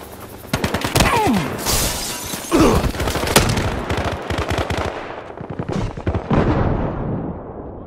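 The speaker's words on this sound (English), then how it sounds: "Oh, I've been flashbang." A flashbang grenade goes off in a video game amid a loud, close firefight: dense bursts of gunfire and sharp blasts that taper off toward the end, with no talking.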